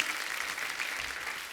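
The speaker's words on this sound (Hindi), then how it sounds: "पहले तो जोरदार तालियां" Steady applause from a studio audience on a comedy talk show, welcoming a veteran actor known for playing police officers; dense clapping holds at an even level throughout without a break.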